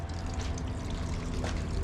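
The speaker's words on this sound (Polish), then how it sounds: "Patrzcie, woda leci na szybę." A camper van's windshield washer spraying water onto the windscreen, a steady hissing, trickling rush of liquid that holds at an even level throughout, close by with no voices over it.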